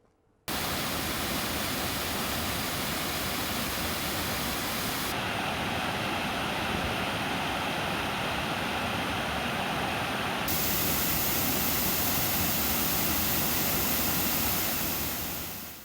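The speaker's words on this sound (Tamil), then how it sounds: "தேனி மாவட்டம் பெரியகுளம் மலைப்பகுதியில் பெய்த கனமழை காரணமாக கும்பக்கரை அருவியில் வெள்ளப்பெருக்கு ஏற்பட்டுள்ளது." A flooded Kumbakkarai waterfall in the Periyakulam hills of Theni district, swollen after heavy rain, gives a dense, steady roar of rushing water that holds loud and unbroken from start to finish with no voices.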